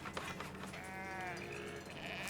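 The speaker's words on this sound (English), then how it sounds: "So many sheep noises." Sheep bleat in the coastal village-building game Foundation, a couple of wavering, nasal bleats close by over faint ambient game sound.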